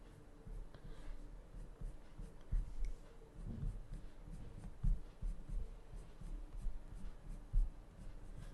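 Coloured pencil scratching and rubbing on paper while colouring poppies over marker, a soft continuous scraping with irregular stroke accents, close and quiet, no talking.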